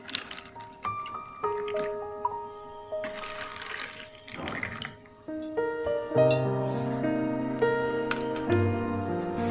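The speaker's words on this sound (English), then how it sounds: "Firstly, put the water into the Tupperwares." Water is poured into plastic Tupperware containers in a chemistry classroom setup, with close, bright trickling and gurgling notes that rise in pitch as each container fills, in several separate pours.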